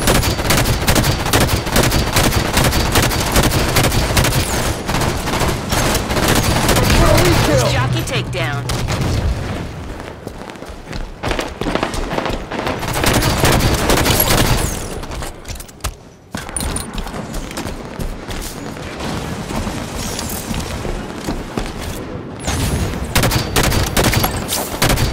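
Rapid game gunfire and booming weapon blasts from Halo 5 Warzone multiplayer combat, loud and nearly continuous with dense bursts, occasional brief lulls, and talk mixed in.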